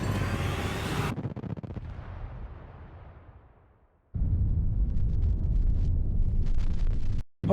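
A nuclear missile strikes a warship in the naval strategy game HighFleet, giving a loud booming blast that rumbles and fades over a few seconds, then a second heavy sustained roar of impact and fire before cutting off.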